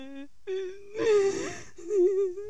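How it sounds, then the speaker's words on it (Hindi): A voice whimpers and sobs in drawn-out, wavering cries, fairly close, with a brief pause before the crying resumes. "किसी की रोने की आवाज सुनाई दी।"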